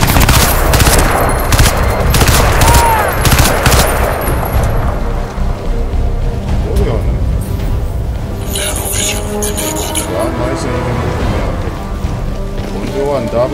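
Gunfire in the shooter game Crysis 2, with rapid bursts of automatic shots up front that thin into scattered firing over water and ambient game sound, with talk over it.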